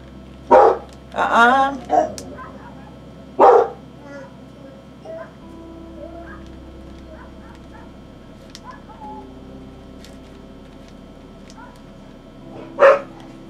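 A dog barks outdoors in a few loud, close yaps early on, followed by quieter background sounds and one more sharp bark near the end.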